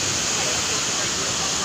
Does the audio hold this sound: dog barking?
no